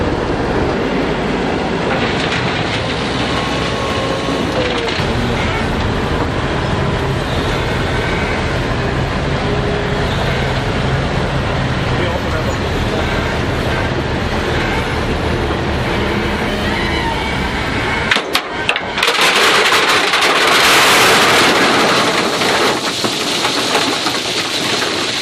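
A dump truck unloads 1 to 3 inch river jack rock, producing a loud, continuous rumbling rush of tumbling stones that shifts to a brighter, hissing pour near the end.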